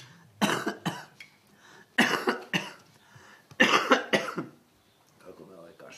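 Several harsh, close coughing fits in bursts of two or three, separated by short pauses, with a quieter voice murmuring near the end.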